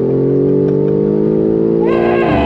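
BMW M4 Competition engine revving hard under acceleration, a loud steady drone close by whose pitch climbs sharply near the end, with no voices over it.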